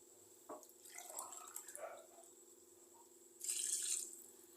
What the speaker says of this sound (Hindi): अब हम इसमें 6 गिलास पानी ऐड कर देंगे।